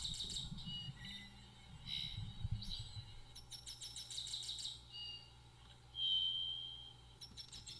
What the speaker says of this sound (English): That's the birds and stuff at Beekman Farm, early in the morning